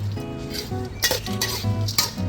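Fried ginger and fried fingerroot are tossed into a pan of tamarind-sweetened sauce with the heat off for a Thai snakehead fish dish, giving repeated clinks and scrapes of a utensil against the pan, close and clear.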